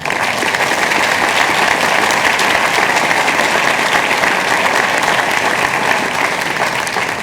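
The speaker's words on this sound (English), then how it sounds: "Now you may applaud." Sustained, dense applause from a large audience at the Harvard University 2012 commencement afternoon exercises, loud and steady from start to finish without a break.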